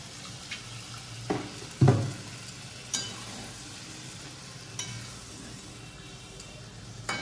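Chicken frying in a hot pan with water poured in for a Bengali biryani, a steady sizzle running throughout with a few louder bursts and clinks of a utensil against the pan.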